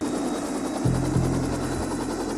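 Steady, loud helicopter rotor noise fills the whole stretch, a constant low thudding drone with a broad rushing hiss on top.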